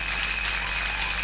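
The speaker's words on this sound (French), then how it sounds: "On applaudit pour le roi des rois." Church congregation applauding during a French-language sermon, a brief, even wash of clapping heard at moderate level with a steady hum underneath and no voices.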